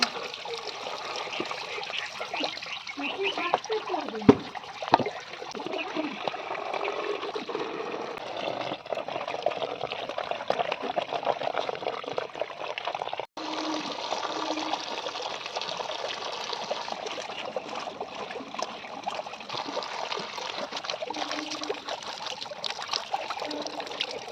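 Water runs and trickles steadily while pots and produce are washed for village cooking outdoors, with faint clinks and handling noises over the continuous flow, fairly close and without speech.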